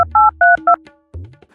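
Telephone keypad tones beeping in a quick sequence of four bright two-tone pulses, followed by a short low button sound, loud and close with no voices.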